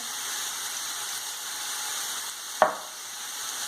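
Mushrooms and onion frying in a pan, a steady close sizzle with a brief sharp clack of a utensil near the end.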